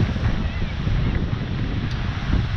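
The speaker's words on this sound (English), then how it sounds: "Amazing, all the waves, isn't it?" Ocean surf breaking along a beach below hills and houses, heard as a steady, loud wash of noise with heavy wind rumble buffeting the microphone throughout.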